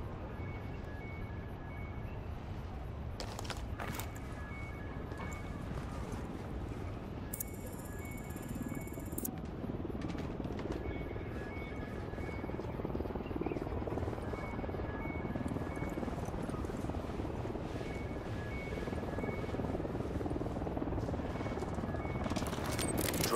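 A surveillance drone in Ghost Recon Wildlands hovers with a steady rotor drone throughout, joined by brief electronic beeps and game interface tones, moderately loud and continuous.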